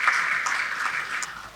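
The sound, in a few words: audience applause at banquet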